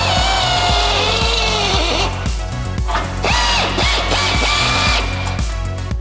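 Power drill fitted with a step bit boring a hole while installing K.I.T.T. fog lights, a loud, steady whine with a rhythmic churning pulse that shifts in pitch partway through, close up and without talk.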